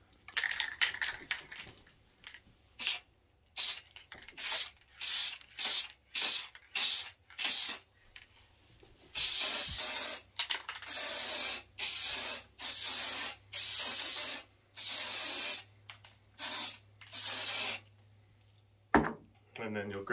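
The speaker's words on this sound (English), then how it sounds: "And I'm going to apply the spray to the batting." Spray adhesive hisses onto quilt batting in a long series of short bursts, some brief and some sustained for several seconds, with quiet pauses between them, close up and alone.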